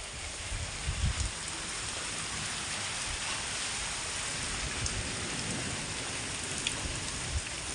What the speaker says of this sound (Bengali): পুরো বৃষ্টি পড়ছে।